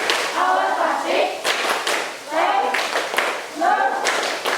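Rhythmic classroom clapping chant, the "tepuk awas klasik", performed by a group of schoolchildren with a teacher in Indonesia, with bursts of hand claps interleaved with chanted voices, fairly loud and close throughout.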